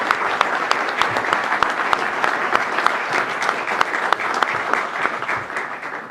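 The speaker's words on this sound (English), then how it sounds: "would you please, with your warm applause, welcome the Commandant of the Coast Guard, Admiral Zukunft." Loud, sustained applause from an audience welcoming the Commandant of the US Coast Guard, dense clapping filling the room without a break.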